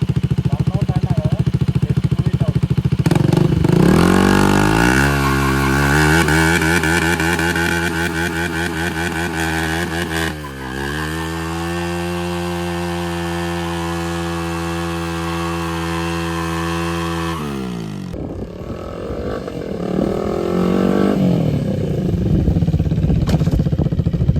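A KTM Duke 250 Gen 3 motorcycle with a loud aftermarket exhaust revs hard and holds a high, raspy drone for several seconds before dropping back, close and loud.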